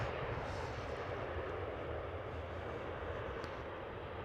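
A Boeing 737-800 airliner at Schiphol Airport, Amsterdam, gives a steady, broad jet engine roar at moderate distance, continuous and even throughout with no voices.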